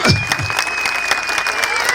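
Applause rings out from the audience at the Erciyes Turkish congress, a loud, close, busy clatter of many hands. A voice briefly speaks over the start, and a steady tone runs underneath.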